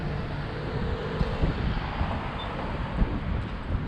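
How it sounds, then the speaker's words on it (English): Wind blows outdoors at an off-leash dog park, a steady broadband rush buffeting the microphone with a few soft gusts and no speech. "a little windy today"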